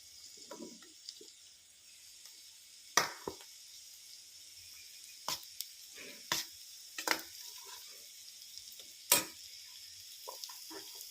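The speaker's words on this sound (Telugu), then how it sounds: "క్యారెట్ అయితే ఫ్రై అయింది అందులో దోసకాయ ముక్కలు వేసుకుందాం" Cucumber pieces tumble into a pan of frying carrots for a Telugu-style curry, giving a steady low sizzle broken by several sharp clattering stirs and scrapes spread across the moment, close and moderately quiet with no talk.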